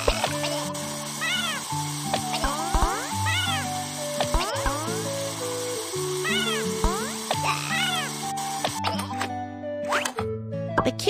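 Cartoonish kitten meows in a veterinarian pet care game: a series of rising and falling mews repeating throughout over a bouncy plucked background melody, with a brief crackly effect near the end.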